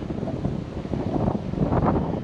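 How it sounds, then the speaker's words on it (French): Strong, relentless wind buffets a cyclist's microphone near a coastal dam crossing, a continuous low rumbling roar with gusty surges and no talk. "depuis ce matin le vent n'arrête pas, c'est la journée où le vent est le plus fort"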